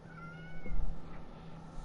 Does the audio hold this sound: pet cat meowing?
yes